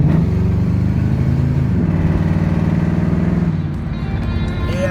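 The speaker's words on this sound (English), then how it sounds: "Let me see if I can show you the exhaust." A Ford V8 car engine rumbles steadily at close range with a deep, throaty exhaust note, holding a low idle-to-rev drone throughout with no talking.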